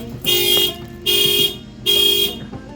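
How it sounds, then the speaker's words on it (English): A 1989 Buick Reatta's car alarm blares in three loud, evenly spaced bursts, each about half a second long, with short pauses between. "I set off the car alarm."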